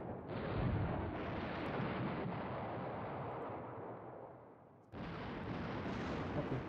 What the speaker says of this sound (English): It's their anti-tank guns.